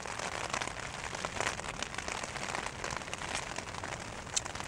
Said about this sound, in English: Rain's back on.